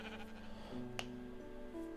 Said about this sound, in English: The sheep get in your face everywhere in this game.